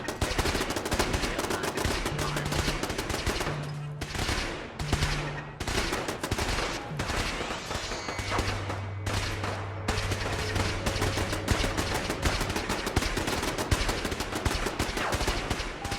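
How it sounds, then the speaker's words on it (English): Automatic gunfire crackles in dense, overlapping bursts throughout a Fallout 4 firefight with the Sim Settlements 2 mod, loud and continuous, with bullets whizzing close past amid low game tones and mechanical hums. "Woo, some bullets flying past my head."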